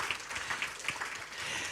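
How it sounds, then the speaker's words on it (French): A brief, faint patter of audience applause follows farm animal images shown at a talk, soft and distant with no voices. "je pense qu'on peut l'applaudir pour ces images"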